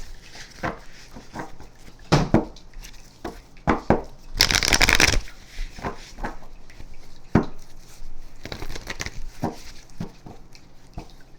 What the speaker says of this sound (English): Splitting the deck